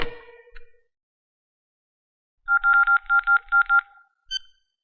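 Phone keypad tones, with one short beep early on, then a quick run of about six evenly spaced dialing tones a couple of seconds later, and a final beep, all clean and close against silence.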